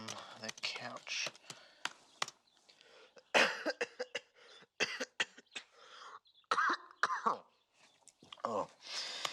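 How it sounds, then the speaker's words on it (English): Several sharp coughs and throat-clearing noises scattered among quiet murmuring and clicks, fairly close and uneven in rhythm. "I just coughed."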